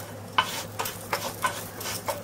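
Squash roasting in a pan at home, a soft steady sizzle with a few stirring scrapes and clinks spaced through the short stretch.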